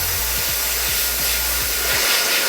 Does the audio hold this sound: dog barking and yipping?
no